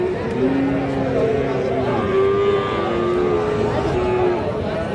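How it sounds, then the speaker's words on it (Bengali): A six-month-old Holstein Friesian bull calf moos at a crowded cattle market, drawn-out calls rising over constant crowd chatter and bustle. "হলস্টিয়ান ফ্রিজিয়ান জাতের একটা ষাঁড় বাছুর।"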